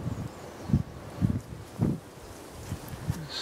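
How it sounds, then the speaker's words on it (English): Outdoor wind gusts in snowy conditions, buffeting the microphone in soft, irregular low rumbles with a faint rustle beneath. "Blowing up again. Move my canvas in the wind."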